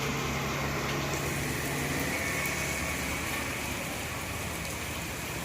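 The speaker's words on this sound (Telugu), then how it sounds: "ఎంత వర్షం వస్తుంది" Heavy rain pours steadily outdoors, a dense, even hiss that holds at the same level throughout with no voices.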